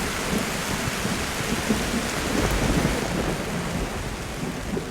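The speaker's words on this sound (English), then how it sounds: "This is a very, very violent thunderstorm." A violent jungle thunderstorm with heavy monsoon rain pours down in a dense, constant roar, with deep thunder rumbling through the downpour and no voices.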